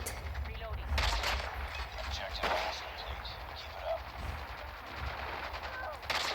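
Automatic weapon fire from a PDW-57 in the mobile shooter Call of Duty Mobile comes in short bursts among game effects, and a player talks in places.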